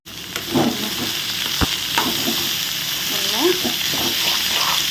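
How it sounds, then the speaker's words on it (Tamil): Chopped beetroot hits hot oil in a pan and sizzles loudly and steadily at close range. A sharp utensil clink sounds early, along with faint stirring noises. "இப்போது நம்ம வெட்டி வச்சுருக்க பீட்ரூட்டு இதில் போடுவோம்"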